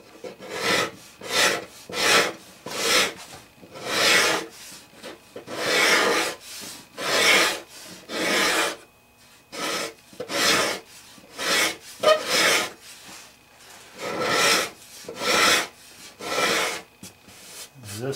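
A hand scraper leveling wood on a guitar, with rhythmic rasping strokes repeated about every second, close and clear with short pauses between passes.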